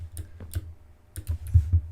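Typing on a keyboard with Kailh Jade clicky switches: several sharp, close key clicks in two quick bursts separated by a brief pause, with no talking.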